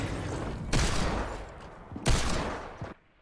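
Two loud, booming blasts from a drum shotgun in the video game Fortnite, each followed by a rattling tail, fired about a second and a half apart with no voices.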